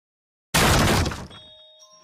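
After a moment of silence, a sudden loud crash with splintering and crunching erupts as a cartoon tree is smashed and ripped out, then fades into a thinning rustle.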